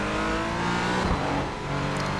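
Porsche Cayman GT4 engine in the iRacing sim at Sonoma, loud and close from onboard, holding a steady tone, dipping briefly as the gearbox shifts, then climbing again under acceleration.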